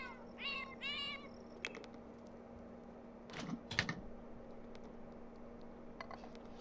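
A game cat meows twice in quick succession, then a few soft clicks and a faint fumbling noise follow over a steady low hum, all fairly quiet.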